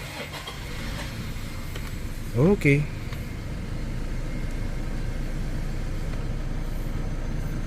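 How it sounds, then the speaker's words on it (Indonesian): A Toyota GranAce Wald diesel MPV starts at the push of a button. A brief starter chirp catches, and the engine settles into a steady, smooth idle while someone talks nearby. "tekan engine start button di sebelah kiri sini untuk menyalakan mesinnya"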